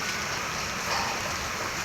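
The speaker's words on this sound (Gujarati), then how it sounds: "જોઈ લો, વરસાદ ચાલુ થઈ ગયો છે" The first monsoon rain falls steadily, a continuous even hiss of drops on the ground and a water-filled pothole, with no voices over it.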